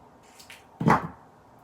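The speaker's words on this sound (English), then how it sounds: "we're just going to use our scissors and we're going to angle cut it" A couple of faint snips followed by one sharper crisp cut, like scissors slicing through paper, close by in a quiet room.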